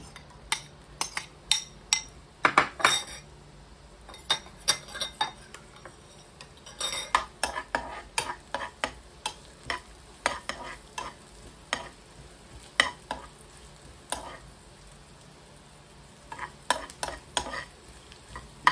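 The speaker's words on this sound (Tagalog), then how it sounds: "Caramelize tayo ng onion." Onions caramelize in a frying pan for beef pepper rice, stirred with a metal utensil that scrapes and clicks in irregular bursts over a soft, steady sizzle, close by.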